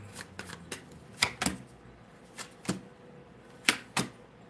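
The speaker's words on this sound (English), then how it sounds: "Shuffle." Tarot cards are shuffled in several short, crisp snaps and riffles, spaced irregularly, close by and quiet.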